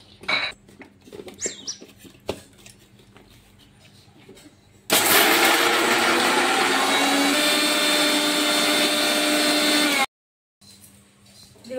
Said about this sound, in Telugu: ఇంకా మిక్సీ అయితే పట్టేసుకున్నా.